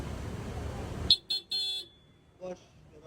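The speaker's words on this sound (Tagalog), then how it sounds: "stock horn" A short stock horn on a Honda ADV 160 scooter honks in a few quick bursts, the first two brief and a third held longer, then a fainter beep after a pause, over quiet background.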